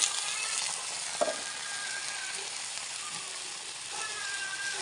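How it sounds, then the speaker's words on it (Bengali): Onion fried with ground cumin and garlic paste sizzles steadily in a pan for a koi fish curry, a loud continuous frying hiss with occasional stirring scrapes, with no talk. "কই মাছের জন্য পেঁয়াজটা ভাজা হয়ে গেছে তার মধ্যে আমি জিরা বাটা দিয়েছি আর রসুন বাটা দিয়েছি"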